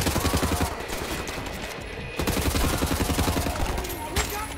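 Rapid shotgun blasts and gunfire in the video game Wolfenstein: The New Order, loud and dense, with repeated shots over a continuous game soundtrack of explosions and noise.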